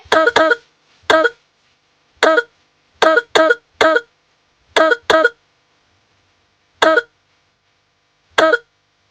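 A woman coughs nearby in roughly ten short, harsh bursts, some in quick pairs and others separated by gaps of a second or more, with no talking.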